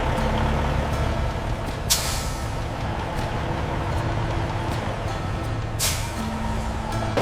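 Trucks arriving at a peach factory during harvest, a steady heavy engine rumble with two sharp hissing air-brake releases near the start and end, loud and close with no talk.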